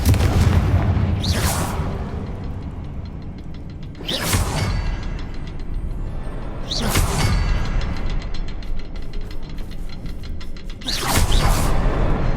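Confringo spell blasts explode in the Hogwarts Legacy video game, several loud booming bursts with sharp onsets spaced a few seconds apart over a constant low rumble of game ambience.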